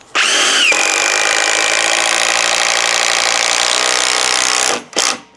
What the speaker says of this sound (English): I'm going to drive a 75mm bugle screw into 9045 pine